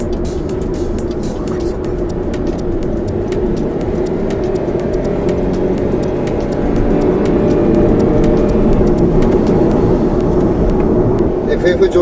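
A Honda N-VAN kei van with a CVT drives at low revs, its engine and road noise forming a steady, muffled drone that rises slightly partway through, heard from inside the cabin while a person talks over it.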